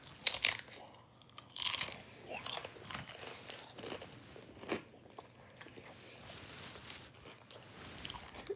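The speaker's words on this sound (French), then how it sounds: "J'ai besoin à mâcher un peu" Someone chews food near the microphone with quiet crunches and bites, including a couple of sharper crisp bursts early on, with no talk.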